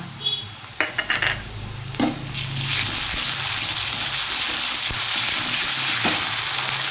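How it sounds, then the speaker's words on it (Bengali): Onion frying in a pan as garlic and ginger paste are added, a few clinks and scrapes of a spoon, then a steady loud sizzle that fills the rest. "পেঁয়াজটা একটু ভাজা ভাজা হয়ে এসছে এর মধ্যে আমি দিচ্ছি হাফ চামচ রসুন বাটা হাফ চামচ আদা বাটা"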